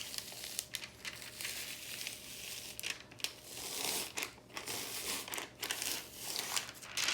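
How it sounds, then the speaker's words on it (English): Transfer tape is peeled slowly off a heat-pressed rhinestone decal on a garment, giving quiet, close crinkling and tearing rustles in uneven bursts with no talk. "Try not to pull the garment itself while you're pulling away the transfer tape."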